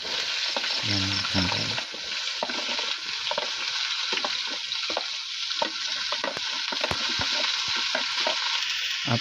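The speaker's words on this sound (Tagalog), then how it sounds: "So igisa na natin yung bunga ng kalabasa." Squash sautéing in a pan for ginataang kalabasa, a close, constant sizzle with frequent sharp clinks and scrapes of stirring and a brief spoken word early on.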